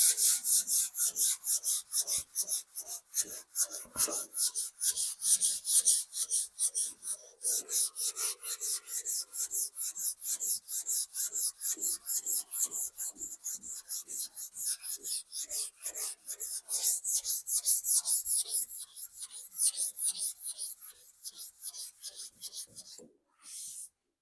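Primer on a VW Beetle body being hand sanded with a small sanding block and sticky-back 3M 320 sandpaper: dense, rhythmic rasping back-and-forth strokes, close and steady for over twenty seconds, with a few brief pauses.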